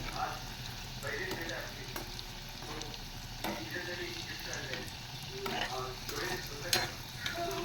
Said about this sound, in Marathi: अजून थोड्याशा तळून घेते मी मस्तपैकी.